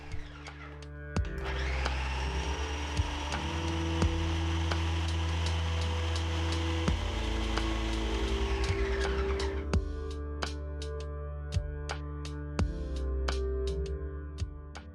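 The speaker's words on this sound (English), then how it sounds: "I chop my tomatoes in the food processor until they're finely chopped." Food processor chopping tomatoes for a spicy Italian zucchini soup, a steady motor whir with a rising pitch that holds for several seconds and then spins down, followed by a scatter of light ticks and clicks, close and moderately loud.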